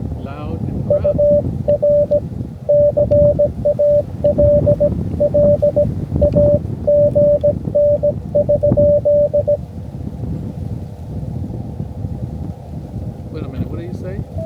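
Amateur radio reception of a Missouri station at a portable setup in Chino Hills State Park: a steady hiss of static and wind with a keyed tone pulsing in short bursts that then stops, leaving noisy reception.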